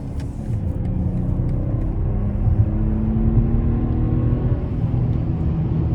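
A 2023 BMW 740i pulls hard under acceleration, heard from inside the cabin as a steady, smooth low engine rumble and road roar that holds without a break for several seconds.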